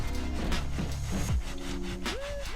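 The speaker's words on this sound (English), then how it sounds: "I'll just wipe it over. With the same cloth, just rubbing in what's left in there." A cloth rubbing Autoglym leather conditioner into a leather car seat, giving a steady close scuffing and wiping texture over about two and a half seconds, with faint tonal background hum.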